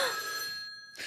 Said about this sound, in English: That's the phone and it's ringing.